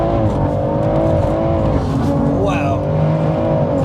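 A BMW M140i with a single turbo conversion accelerates hard, its engine note climbing loud and close while people talk over it.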